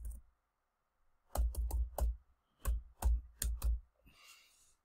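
An email address is typed on a computer keyboard in two short bursts of crisp key clicks, close and distinct, separated by a brief pause, with no talk.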